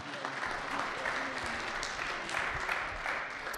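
A round of applause for a presenter at a 1 Million Cups startup event in Kansas City, steady dense clapping from an indoor audience filling the whole stretch.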